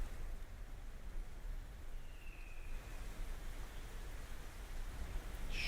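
Rain sound effect playing in a generative music app, a soft, steady wash of falling rain at low level with a brief faint chirp near the end, no voices present.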